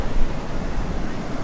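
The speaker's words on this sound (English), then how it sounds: "So it's super windy out here" Strong wind buffets the microphone at an ocean beach, with a steady broadband roar of surf and gusts running throughout, loud and close, with no speech.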